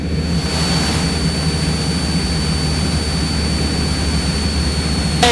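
A Cessna 172 piston engine drones steadily and loudly from inside the cabin during mixture leaning, with a constant low throb and thin high whine; the pitch barely shifts.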